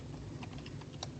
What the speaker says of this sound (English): So I'm going to type in my chapter 1.